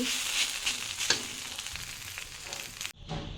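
Steady sizzling of banana stem frying in a pan, with a few stirring scrapes, cutting off briefly near the end before resuming.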